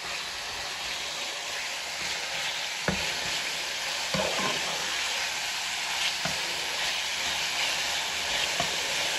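Chicken pieces sizzle steadily in a hot pan as they are stirred and fried, a continuous loud crackle broken by several scraping strokes of the spatula, with no talking.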